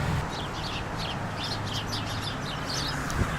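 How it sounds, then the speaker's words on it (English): A dense flock of birds calling together, with chirps and clucking close by over a constant noisy background. "Oh, sounds like there's a lot of birds in there."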